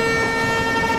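A Coromandel Superfast Express in Train Simulator sounds a sustained, loud horn blast with steady tonal layers over rolling train rumble, as the train enters a station at speed.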